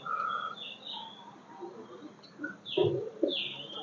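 Pigeons in a loft give soft, low cooing calls, quiet and intermittent, with a couple of fuller coos near the end over a hushed background.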